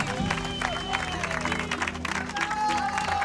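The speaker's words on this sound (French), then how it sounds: "le public l'acclame, comme tous ceux qui arrivent jusqu'ici" Spectators at La Diagonale des Fous trail race on Réunion applaud and cheer a runner arriving, a dense wash of clapping and crowd voices with music and other sounds mixed in.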